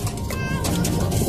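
Pigeons cooing close by in a brief, soft burst of low throaty calls.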